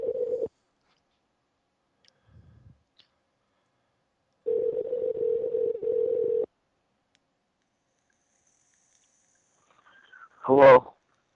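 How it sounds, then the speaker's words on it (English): A telephone line rings out with two long, steady ringback tones separated by silence, followed by a brief voice as the call is answered. "It's ringing."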